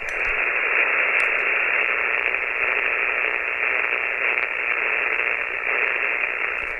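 Radio receiver tuned to a live band with the noise blanker and noise reduction switched off, giving a steady, loud wash of hiss and grinding static that runs unbroken throughout.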